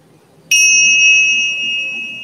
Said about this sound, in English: Listen to the sound of the chimes.